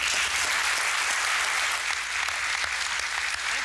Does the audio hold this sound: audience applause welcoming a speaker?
yes